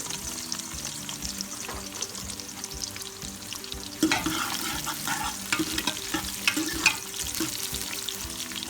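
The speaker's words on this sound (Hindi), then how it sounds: "ये देखें ऑयल गर्म हो गया, मैं इसमें ये 2 छोटी प्याज डाल" Small onions fry in hot oil for beetroot-and-mutton curry, a dense crackling sizzle that grows busier with spoon stirring about halfway through, close up and unaccompanied by speech.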